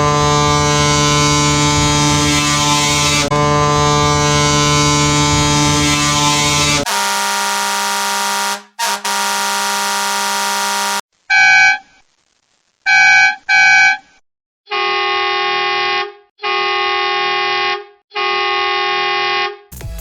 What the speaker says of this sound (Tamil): ஃப்ரெண்ட்ஸ், இப்போ நான் ஹாரன் சவுண்ட்ஸை 1 by 1 ப்ளே பண்ணி காமிக்கிறேன் பாருங்கள்.